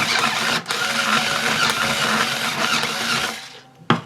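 A worn hand-cranked string winder turns a guitar tuner to wind on new strings, making a continuous scratchy, ratcheting whir up close. The winding stops just before a final sharp click, with no speech.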